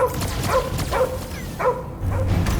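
Cosmo the dog from Guardians of the Galaxy gives four sharp, evenly spaced barks in close succession, loud and near, with game ambience underneath.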